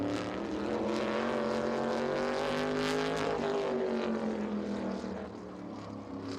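A Midwest Modified race car, number 35, roars steadily around Owosso Speedway out of turn four, a loud continuous engine drone with a slight pitch sweep as it passes, easing off toward the end.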